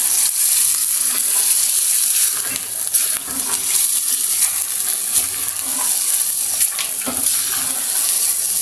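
Murg chole masala, chicken and chickpea curry, sizzles steadily in a hot pan while being sautéed and stirred, a loud continuous frying hiss with occasional scraping stirs and no talk.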